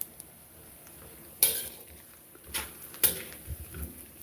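Pork sisig being stirred and scraped in a pan, with sharp metallic utensil clacks against the pan over a low, steady sizzle, a few louder scrapes standing out near and close.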